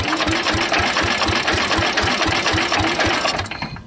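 An old Sears Super 12 tractor engine runs with a rapid, steady chugging putter, loud and close, then briefly changes and fades near the end.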